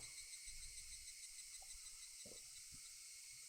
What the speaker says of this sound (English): Only the cry of the cicadas remained, unknowingly loud.